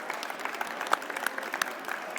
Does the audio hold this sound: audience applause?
yes